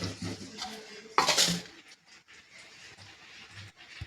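A pot of khichu (papad dough) being stirred by hand, with metal scraping and clanking against the pot in a loud burst near the middle, then quieter scraping.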